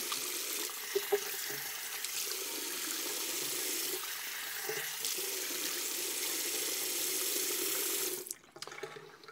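Tap water runs steadily into a sink for a rinse after shaving, a continuous close hiss and splash that cuts off near the end, leaving faint drips.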